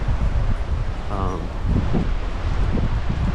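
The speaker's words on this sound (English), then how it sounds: "And it's windy and cold" Steady gusting wind on a cold, exposed lookout roars across the microphone, a continuous low rumble with faint rustling, with a brief murmur of a voice partway through.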